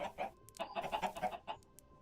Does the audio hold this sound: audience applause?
no